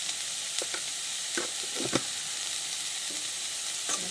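Bitter gourd stir-frying in a pan with salt, a continuous close sizzle broken by a few short scraping stirs, no voices.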